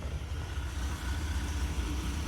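Mazda E2000 van with an MCV carburettor, once misfiring, idles close by with a steady low rumbling growl that holds even and unbroken from start to finish, with no voices over it.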